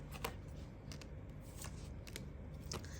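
Tarot cards are shuffled during a reading, a steady soft papery riffling with a few crisp snaps, close and quiet against a constant background hiss.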